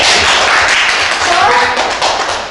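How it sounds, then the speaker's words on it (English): Students in a university microteaching maths class clap together, a busy patter of hands close by and fairly loud, with voices mixed in. "Keep applause to Safiro."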